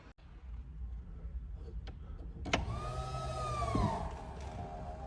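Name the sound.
power convertible top of 1993 Saleen Mustang Spyder going up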